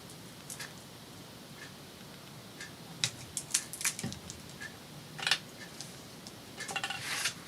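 Paper cut for a craft tag: a few sharp scissor snips and crisp paper rustles, close and quiet, scattered irregularly over a soft background hiss.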